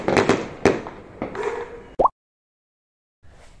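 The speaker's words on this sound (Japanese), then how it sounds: "新年を迎えるとですね、各家が花火をあげます。" Household New Year fireworks in Vallegrande go off as several sharp pops and crackles in quick succession, followed by a whooshing rise, a sudden silence and faint distant noise returning.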